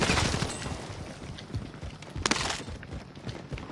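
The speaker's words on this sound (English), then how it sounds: "shotgun. I hear it." Rapid gunfire in a multiplayer shooter game, a string of sharp cracks with one louder blast near the middle, set over a dense clutter of game noise with no voices.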